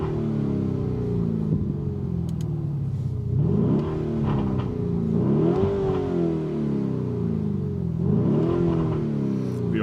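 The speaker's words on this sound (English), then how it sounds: "Now listen to the sound of this Urus S." A 2024 Lamborghini Urus S SUV engine rumbles and revs repeatedly, rising and falling in several strong surges over a steady deep idle, loud and close with no talking.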